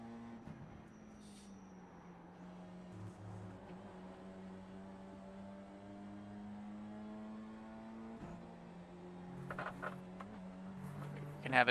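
BMW M2 G87 race car engine in the iRacing sim, a steady sustained drone holding near-constant pitch with a brief shift dip partway through, plus some faint contact noises late on; no talking.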